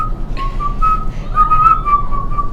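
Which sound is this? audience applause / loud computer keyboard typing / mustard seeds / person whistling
person whistling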